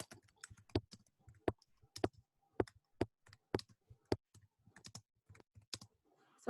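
Calculator keys are pressed one after another at a fairly steady pace, giving crisp, close, quiet taps separated by short silences, with no talking.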